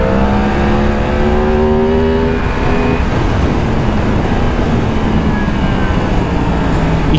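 A 2023 Yamaha MT-10 SP motorcycle engine is revved hard under throttle on a test ride, a loud, continuous roar whose pitch climbs and falls with each twist of the gas, mixed with heavy wind rush.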